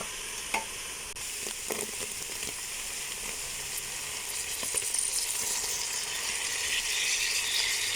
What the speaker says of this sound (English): let this fry for a few minutes